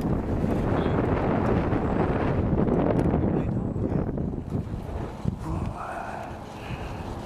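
Steady wind rushes and buffets across an open microphone outdoors, a loud broadband roar that holds throughout and eases slightly toward the end, with faint tonal sounds late on.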